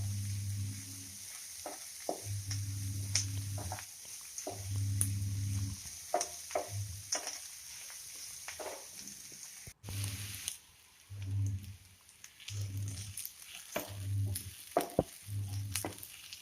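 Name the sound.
onions being sautéed in a pan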